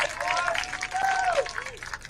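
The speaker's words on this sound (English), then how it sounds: "Home crowd like that attack there." A home crowd at a high school varsity soccer match claps and cheers briefly after an attacking move, while a commentator talks over the noise.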